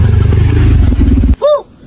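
A new motorcycle engine revs loudly and steadily up close, cutting off abruptly near the end before a brief tonal sweep.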